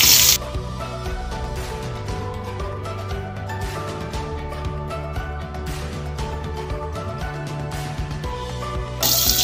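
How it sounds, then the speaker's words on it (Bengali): Ivy gourd (kundri) frying in hot mustard oil gives a continuous close sizzle and crackle, starting with a sharp burst of spattering as the pieces drop in and then settling into a steady hiss. "দেখুন তেলটা গরম হয়ে গেছে, এবার আমি কুদরিগুলো দিয়ে দিচ্ছি"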